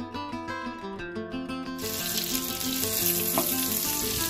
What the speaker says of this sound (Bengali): ওদিকে আলুটাও হালকা করে ভাজা হয়ে গেছে